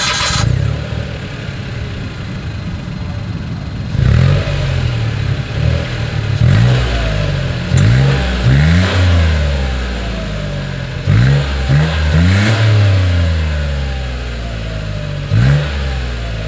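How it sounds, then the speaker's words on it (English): A 2023 Mitsubishi Mirage's small engine idles, then is revved repeatedly in short, sharp bursts, each rising and falling quickly, its exhaust close by and loud over the idle. "As always, here is that exhaust clip."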